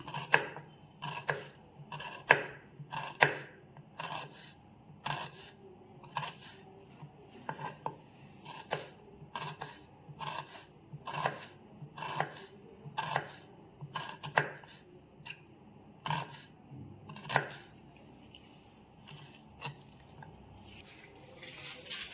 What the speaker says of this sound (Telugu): ఉల్లిపాయ కట్ చేసుకుందాం ఇది కూడా సన్నగా కట్ చేసుకుందాం పొడుగ్గా